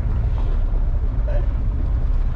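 A 1972 Ford Ranger XLT Camper Special pickup with a 390 engine drives along, its deep, steady engine rumble loud and close, mixed with wind buffeting.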